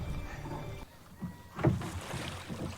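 A boat moving on water in a Game of Thrones scene, with soft lapping and splashing as it glides, faint and close, over a wind-like hush.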